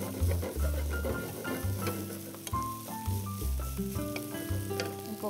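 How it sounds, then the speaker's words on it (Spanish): Mangoes tossed in a frying pan sizzle and clatter as the pan is shaken, with rhythmic scraping and tossing bursts repeating every second or so, close and moderately loud. "Y ahí damos una sarteneada a los mangos."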